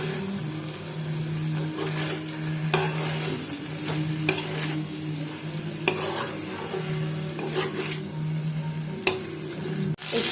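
Fried cauliflower and potato are stirred in a pan for a vegetarian curry: a steady close sizzle runs throughout, with repeated sharp scrapes and clacks of the spoon against the pan every second or so.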